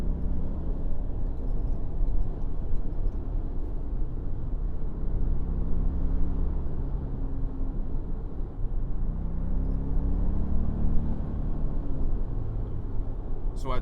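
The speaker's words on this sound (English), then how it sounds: "That engine sounds nice." Toyota Grand Highlander Hybrid Max Platinum (2025) engine heard from inside the cabin while accelerating onto the highway in sport mode, a steady low rumble with road noise, continuous and moderately loud, no talking.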